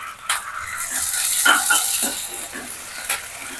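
Ginger-garlic paste fries with green chilies and tomato in a pan: a continuous close sizzle broken by several sharp scrapes and clicks as a spoon stirs. No one talks.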